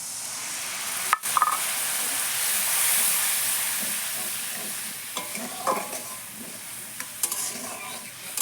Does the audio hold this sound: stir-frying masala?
yes